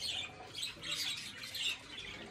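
A pet bird in an aviary gives repeated high, scratchy squawks in short bursts. The calls are faint and somewhat distant.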